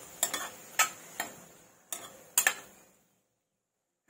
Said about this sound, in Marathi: वाटाणे पण चांगले असे त्यामध्ये मिक्स करून घेऊया